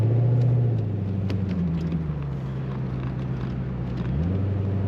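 A 1989 Chevrolet Corvette convertible on the move gives off a steady low engine drone with a shifting pitch, along with road and wind rumble and no talk.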